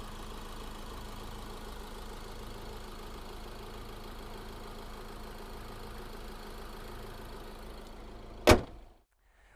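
A Fiat Ducato L4H3 van's 2.3 diesel engine idles quietly and evenly for several seconds, a low steady hum, then a single sharp thud like a door shutting cuts it off into near silence.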